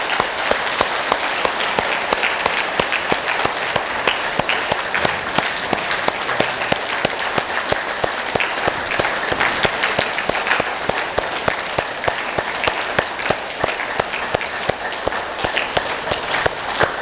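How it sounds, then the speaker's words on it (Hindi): One person claps their hands as a daily exercise, a long unbroken run of rapid, evenly spaced sharp claps that stays loud and close throughout with no talking. "एक सबसे जरूरी एक्सरसाइज है जो आप रोज किया करो, लास्ट में ताली बजाने की"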